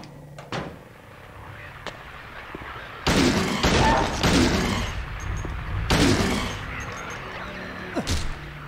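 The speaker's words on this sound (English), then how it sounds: "I probably didn't have to shoot him." Gunshots in the horror game Silent Hill 2, several heavy booming blasts spaced a second or more apart, loud and close over a quiet, dark ambient backdrop.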